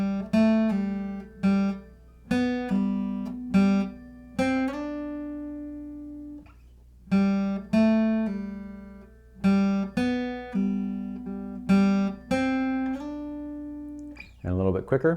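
Acoustic guitar picks a riff as single plucked notes and a few slides up the neck, clear and close, with short pauses between phrases.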